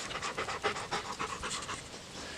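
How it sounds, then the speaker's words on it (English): A dog at a winter campsite panting heavily and rapidly, quick rhythmic breaths close to the listener, fairly quiet and with no one speaking. "Atlas, you were breathing like you just ran a marathon"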